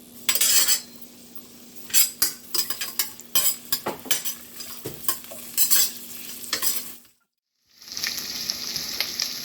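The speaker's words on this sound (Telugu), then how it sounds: "ఇప్పుడు ఉల్లిపాయలు, ఈ పచ్చిమిరపకాయలు వేసేసుకుంటున్నానండి" Onions and green chillies frying in a pan for a gongura vegetable biryani, stirred with frequent sharp metal scrapes over a hissing sizzle, then a brief silence before the loud frying hiss returns.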